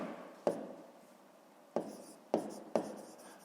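Pen strokes on paper while working a fifth-grade math exercise: four short scratchy bursts, each starting with a tap, close and fairly quiet in a silent room.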